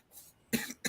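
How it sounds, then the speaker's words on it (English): A person with a lingering cough, caught since a Disney cruise, coughs twice in quick succession: a sharp, strong burst followed by a shorter second one, close to the microphone after a breathy pause. "I still got the cough"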